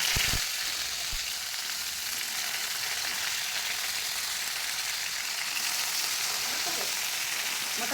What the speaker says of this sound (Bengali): এবার আমি কড়াইতে তেল দিয়ে তাতে এক এক করে সবগুলো বসিয়ে দেব।